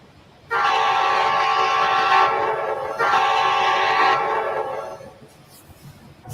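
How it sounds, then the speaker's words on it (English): A big freight train leaving the yard on Cajon Pass sounds two long, loud, sustained horn blasts separated by a brief gap, with low rail rumble underneath. "Like I said, this is a big train."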